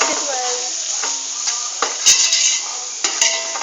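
A spoon scrapes and clinks against a pan as onions with coriander and cumin powder are stirred for Punjabi kadhi, the close metallic taps over a soft sizzle.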